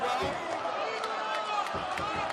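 A boxing arena crowd roars and cheers for Kubrat Pulev midway through round 12 of his fight with Ihor Shevadzutskyi, a dense, continuous wash of noise under an announcer's commentary.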